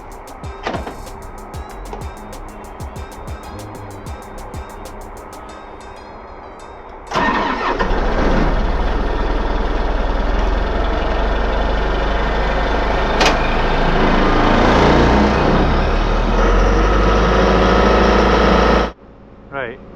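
A Case 360 digger's engine cranks and fires up with a loud surge, then settles into a steady, heavy idle running close by for over ten seconds before cutting off abruptly near the end.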